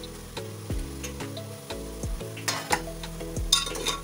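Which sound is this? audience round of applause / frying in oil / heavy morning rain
frying in oil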